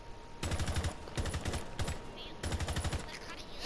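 Rapid automatic gunfire from the video game Rainbow Six Siege comes in three bursts separated by short gaps, fairly loud bursts of rapid crackling shots.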